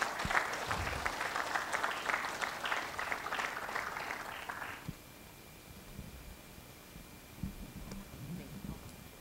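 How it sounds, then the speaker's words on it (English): Audience applause at an auctioneering college graduation ceremony, a loud burst of clapping lasting about five seconds, then fading into quiet room noise with faint shuffling. "How about a round of applause for Vicki?"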